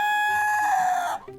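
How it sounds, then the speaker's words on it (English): A rooster crows once, loud and close, its long drawn-out call falling in pitch before breaking off, followed by a brief faint cluck. "with a rooster, it's going to crow when it wants to crow"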